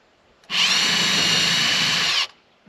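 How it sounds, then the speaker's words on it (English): A 1/8 inch bit bores through a small block of wood, a steady high whine of a power drill running for about two seconds alone, starting and stopping abruptly, close and loud. "I'm just going to use, I think it's a 1/8 inch drill bit, a little block of wood"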